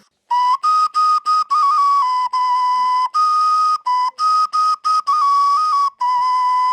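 A handmade clay whistle blown in a run of short and longer shrill toots, stepping between a couple of close pitches, loud and clean with brief gaps between.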